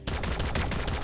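Rapid gunfire bursts in My Time at Sandrock, a dense volley of loud shots pulsing steadily through the whole moment with no break.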